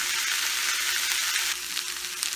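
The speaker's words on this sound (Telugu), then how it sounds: "బీన్స్ కూడా యాడ్ చేసుకున్నాం కదా, ఇది ఫ్రై అయ్యేంత వరకు వెయిట్ చేద్దాం" Sliced French beans sizzle steadily in hot oil in a pan for a sesame bean fry, a continuous close hiss with no voices.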